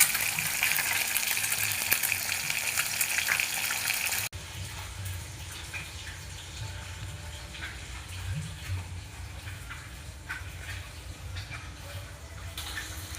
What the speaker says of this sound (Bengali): এই যে আমার মা মাছ ভাজছে এখানে